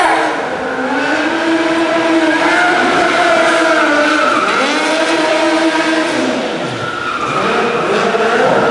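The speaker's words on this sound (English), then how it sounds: "Guys, let's get a pursuit car down camera alley." A modified Opel Corsa pursuit car at a stunt show drives down an alley, its engine loud and close, rising and falling in pitch as it accelerates, with brief tire skids throughout.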